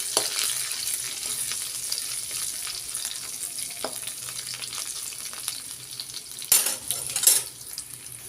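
Finely chopped garlic fries in oil in a pan for a chana dal fry, a steady loud sizzle with a spoon scraping and clinking against the metal as it is stirred, a few louder clatters near the end.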